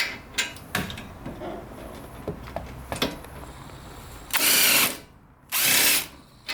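A power tool works on the pinch bolt of a Mazda strut during a coilover suspension install, with scattered clanks and ratchet clicks, then two loud bursts of the tool whirring, each about a second long.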